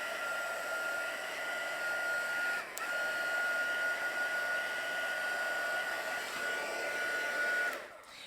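A hair dryer blows steadily over a freshly painted watercolor card on a wire drying rack, giving a constant close whine and rushing air with a brief dip midway before it cuts off near the end.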